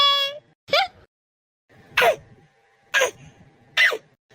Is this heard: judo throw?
no